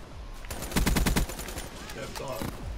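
Razorback submachine gun firing in rapid automatic bursts during Call of Duty: Black Ops III multiplayer, a loud close rattle of evenly spaced shots over a steady game background.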